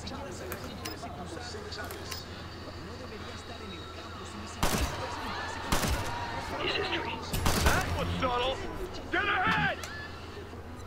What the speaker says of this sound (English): Oh, I like the hit marker sound.